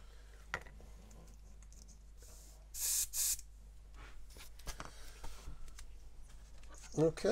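Airbrush spraying paint onto the underside of a 1/72 Airfix Avro Vulcan B.2 model kit, with the compressor at about 15 psi: two short hissing bursts amid quiet clicks and faint handling noise.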